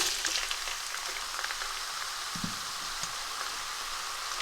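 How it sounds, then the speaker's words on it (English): Onions fry on medium heat in hot oil in a pan, a steady close hiss and crackle, with a soft clunk or two of the pan partway through. "This is both the onions going in. And I'm just going to fry these until they become a nice golden brown colour."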